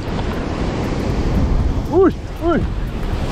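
Rough sea pounding the rocks where people fish from the crags, a loud continuous roar of surf and wind, with short excited shouts rising over the water near the end.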